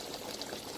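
Water pours steadily into a pot of brown stew chicken, a soft continuous splash at close range.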